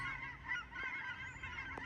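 Cackling geese honk continuously in the background while migrating, a dense overlapping chorus of calls heard at a steady middle distance with no talking.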